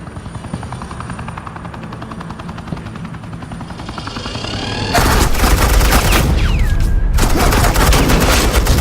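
Suppressing gunfire in the Batman: The Enemy Within video game: a low rotor-like drone gives way to a sudden, loud, sustained burst of rapid automatic fire that continues densely to the end, with no talking.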